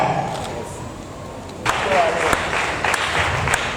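At a certificate ceremony for Bible correspondence course graduates, a quieter stretch with voices gives way to a sudden burst of crowd clapping, a loud wash with sharp individual claps standing out.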